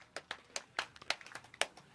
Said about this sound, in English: They clap these blokes off because they're injured.